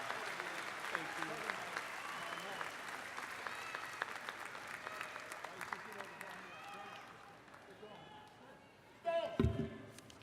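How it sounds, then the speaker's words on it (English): A crowd at a Daytona State College commencement ceremony gives sustained applause, with voices mixed in. The clapping gradually thins out, and near the end a loud thump rises from the quieter hall. "Let's please give Professor Christensen one last round of applause, as this is his final commencement."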